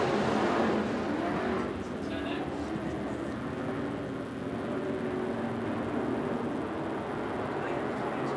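IMCA SportMod race cars roaring down the back straightaway during a heat race at Arizona Speedway, a loud steady engine drone that eases slightly after the first second, with commentary over it.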